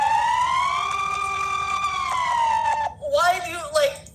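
A Swiss emergency alert siren plays as a long, loud, sustained wailing tone that slowly sinks in pitch, then breaks into short, warbling rising-and-falling bursts toward the end.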